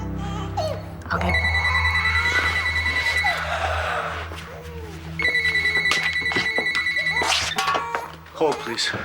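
A telephone rings in two long electronic bursts, loud and close indoors, with a voice talking briefly between and after the rings.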